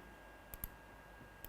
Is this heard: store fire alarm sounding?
no